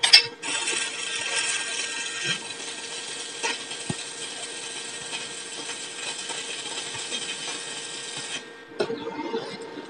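Welding an iron plate pivot riser, heard as a steady, continuous close hiss and crackle of the arc running for about eight seconds, then stopping abruptly with a brief clatter after.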